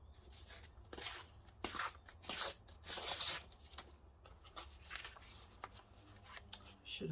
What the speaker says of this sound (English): I'm going to use the tear ruler